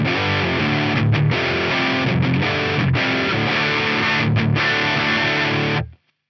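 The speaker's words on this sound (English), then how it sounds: "I wonder if this is just a generic distortion algorithm" An electric guitar through a distortion preset on a Yamaha GEP 50 effects processor plays loud, buzzing chords with brief gaps between strums, ringing out before cutting off abruptly at the end.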